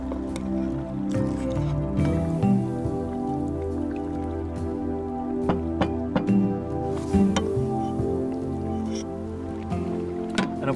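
Rosé wine with black peppercorns boils in a pot on the stove, giving a close, continuous bubbling and popping with irregular wet plops and sizzling bursts, no talk over it.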